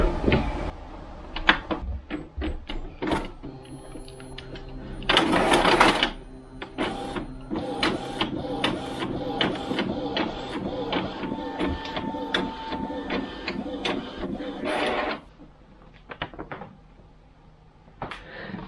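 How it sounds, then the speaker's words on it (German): A home printer runs through a print job close by, with a steady mechanical whir broken by repeated clicks, clacks and paper-feed knocks that fill most of the span before quieting near the end. "Ich habe mir vor einiger Zeit mal einen Drucker gekauft."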